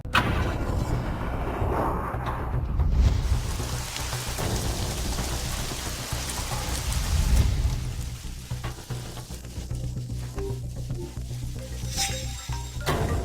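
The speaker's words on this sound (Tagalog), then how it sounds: "kumukulog na" Heavy rain pours steadily on a surface while deep thunder rolls through in long swells, loud and enveloping, with no voices.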